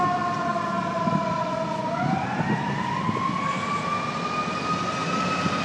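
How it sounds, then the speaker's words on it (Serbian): An ambulance siren passes along a Chicago street, its loud, steady two-tone wail sliding in pitch partway through as it goes by, over a constant rumble of city traffic. "Evo je hitna pomoć, verovatno će na drugu stranu."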